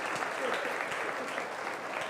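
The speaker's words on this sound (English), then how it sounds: "give all these kids a big round of applause" Audience applause for the kids in a 4-H fair's supreme showmanship contest, a steady, dense round of clapping from the crowd that holds evenly for the whole stretch with no voices over it.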